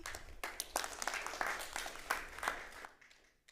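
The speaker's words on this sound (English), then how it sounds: "Please, a round of applause" An audience at a farming seminar applauds a guest speaker, a burst of scattered clapping that starts sharply, holds briefly and fades away toward the end.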